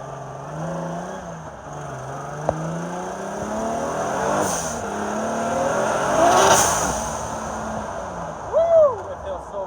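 A Lexus SC300 engine, recently troubled by a fueling issue, pulls hard under throttle with a rising, revving pitch. It is heard from inside the car, and a brief voice comes in near the end.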